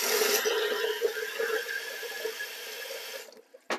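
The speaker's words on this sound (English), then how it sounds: "Now I'm going to put a bit of water in it." Hot water from a kettle streams steadily into a dish for a honey meringue pudding, a close, hissing pour that trickles off at the end.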